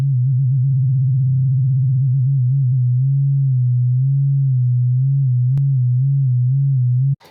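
A pure Serum synth sine tone holds a low pitch that wobbles steadily under LFO pitch modulation, rapid flutter at first then slower swings, alone and loud until it cuts off abruptly.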